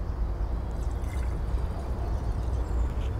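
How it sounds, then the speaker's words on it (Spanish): Water pours steadily into a tank, making a continuous close splashing rush with no pauses. "En el caso este, solamente le pones agua"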